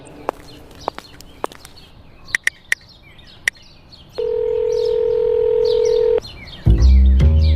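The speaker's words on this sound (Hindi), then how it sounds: "वो अपने रूम में गई और श्रेया को फोन मिला दिया।" A series of short beeping key tones as a phone number is dialed, followed by a steady dial tone, then a louder ringing tone.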